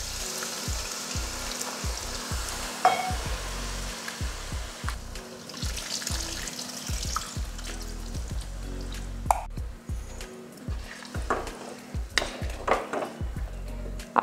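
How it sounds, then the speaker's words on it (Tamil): Eggplant curry frying in oil with dissolved tamarind water poured in, a steady sizzle broken by irregular clatters and clinks of a utensil against the pan, close and fairly loud, without talking. "அதை கரைச்சி ஊற்றிடலாம்."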